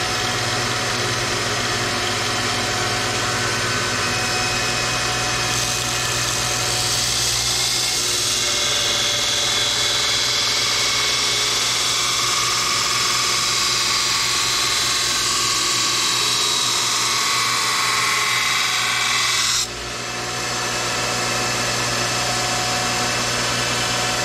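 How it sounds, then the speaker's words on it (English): A grinder reshapes a Model 1917 knife blade into a bowie, its loud steady motor whine carrying a harsh grinding hiss that swells and fades as the blade is pressed against it, then drops off near the end. "Let's put us a couple of grinds on there and see what it looks like."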